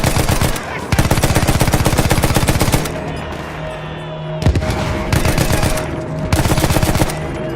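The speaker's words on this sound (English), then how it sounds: "Open fire! Keep shooting!" Sustained machine-gun bursts roar in Battlefield 1 World War I combat, loud rapid automatic fire broken by brief pauses, with shouted voices and battle noise between volleys.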